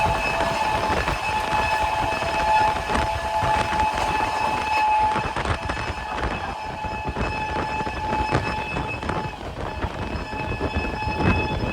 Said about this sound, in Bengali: Balurghat Kolkata Tebhaga express crossing Kolkata Jammu Tawi express